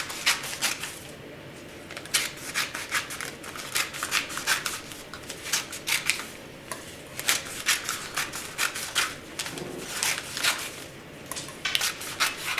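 Scissors cut material into strips for a recycled-craft robot, a steady series of close, crisp snipping and rustling crunches repeating throughout.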